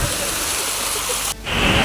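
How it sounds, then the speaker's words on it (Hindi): Decorative waterfall and fountains in front of the Burj Khalifa give a steady, broad rush of falling water, loud and continuous, with a brief dip before the wash returns at full strength. "झरना और रखा है बढ़िया, फाउंटेन लगे हुए हैं"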